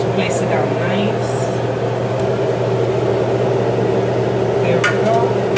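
A salmon fillet laid in a pan to sear gives a loud, steady sizzling hiss that runs throughout, broad and even, with a few faint clinks and scrapes over it.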